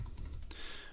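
A few quick keystrokes on a computer keyboard while entering a number into a spreadsheet, soft, close clicks in a short burst.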